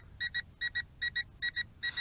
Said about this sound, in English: So it is beeping